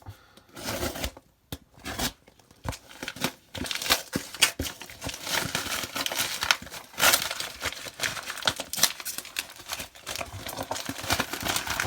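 Someone slicing into a fully sealed, tape-wrapped cardboard mystery box, close up: rapid scraping, crinkling and tearing bursts with sharp ticks and rustles, irregular and continuous, without talk.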